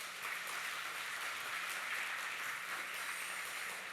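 A church congregation gives dense, steady applause during a Sunday worship service, a continuous wash of many hands clapping at moderate distance with no break.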